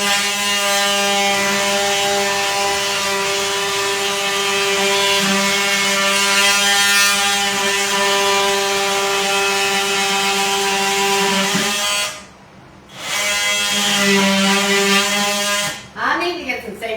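Loud, continuous buzzing of an oscillating multi-tool cutting through sheetrock, held close for most of the time with a brief dip where the blade stops, then resumes.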